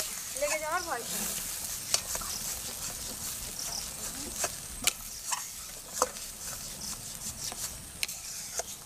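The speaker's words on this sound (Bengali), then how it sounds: "তো এবার ভালো করে নাড়তে হবে, নাড়া যেন বন্ধ না দেওয়া হয়, তাহলে কড়াইয়ের নিচে লেগে যাওয়ার ভয় থাকে।" Milk cream being stirred in a wok to make ghee, a continuous soft sizzle broken by regular sharp scrapes and clicks of the spoon against the pan, with a brief voice-like sound near the start.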